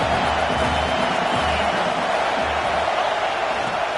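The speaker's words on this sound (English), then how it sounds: "how nice is it to have the home crowd going absolutely bananas?" A home crowd at an Oregon versus Mississippi State college football game roars as a steady, loud, unbroken wash of noise filling the whole stretch.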